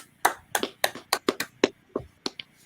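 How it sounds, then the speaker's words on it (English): A small audience claps in sparse, uneven bursts, with about a dozen distinct close hand claps spread over a couple of seconds and no talking. "Let's clap it up."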